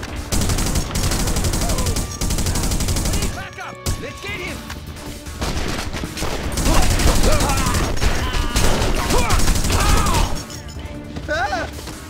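Gunfire in The Punisher video game, bursts of rapid shots and impacts against Yakuza enemies, loud and close, with someone talking over the shooting in places.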